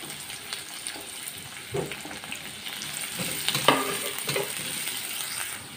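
Finely chopped onion frying in hot oil in a pan, a soft, steady sizzle with occasional light stirring scrapes, fairly quiet and close, without speech.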